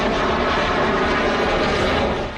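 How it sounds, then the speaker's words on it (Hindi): Rafale fighter jets with two Sukhoi escorts entering Indian airspace, a steady, loud broadband engine roar that holds level throughout with no talk. "5 राफेल की आवाज दुश्मन को कंपाने वाली है।"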